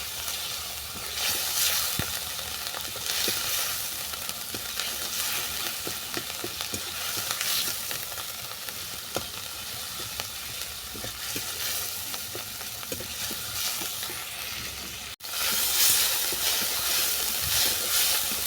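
Spices with dried chillies fry hard in a pan for a fish mustard curry, a loud, dense sizzle with constant scraping stirs, briefly cut off and then resuming even louder near the end.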